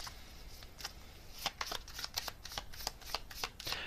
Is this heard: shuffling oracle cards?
yes